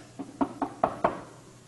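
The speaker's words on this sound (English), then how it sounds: "there's a knock on his glass." Five sharp, evenly spaced knocks rap on an office door's glass pane, close and clear over a quiet room.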